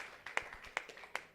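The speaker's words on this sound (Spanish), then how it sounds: "Un aplauso para la hermana, mi hermano." A few sparse hand claps sound faintly in a church congregation to honor an elderly sister of about 103, spaced out and quiet rather than a full ovation.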